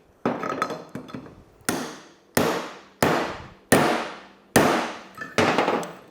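A Honda dirt bike's bearing race is struck with a hammer in seven sharp metallic blows at a steady, deliberate pace, each hit ringing and decaying before the next, close up with no talk.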